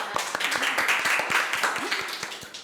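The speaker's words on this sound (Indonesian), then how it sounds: "Harap tepuk tangannya dulu semua" A small studio audience claps in a steady scatter of sharp hand claps at moderate level for a few seconds, with faint voices underneath.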